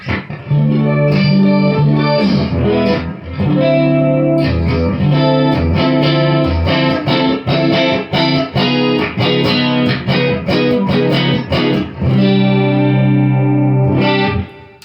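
A budget Les Paul Custom copy electric guitar with a clean tone on the neck pickup plays sustained chords and riffs, loud and close, with short pauses between phrases and no talking.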